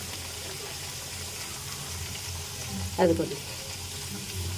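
Jaggery-filled kajjikaya dumplings sizzle in hot oil with a soft, steady frying hiss, a brief splash-like burst as one drops in, while someone speaks briefly.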